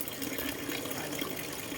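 Tap water splashing hard into a sink in a women's restroom, a steady broadband rush lasting the whole moment with no talk over it.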